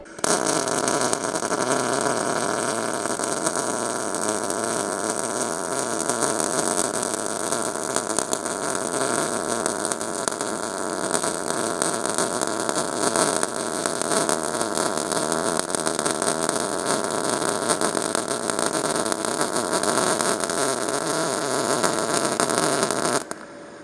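Harsh, crackling buzz from a DECAPOWER FUSION PMCT-205 welding machine running at 100 amps, steady, loud and close, continuing unbroken for the whole stretch.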